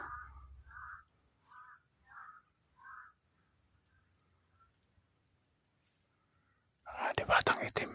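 Several crows call in a short series of harsh caws, one after another, at a moderate distance over a steady insect-like hiss, followed by a burst of louder rustling noise near the end.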